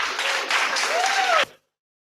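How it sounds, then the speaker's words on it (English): An audience at a coding bootcamp demo day gives a short burst of applause that cuts off abruptly after about a second and a half, followed by silence. "Can I have another round of applause for my lovely teammates Tony, Yaya, and Song, please"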